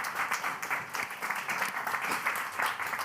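Clapping from an event audience for a speaker, a steady patter of many hands at moderate distance, fairly quiet and continuous across the moment.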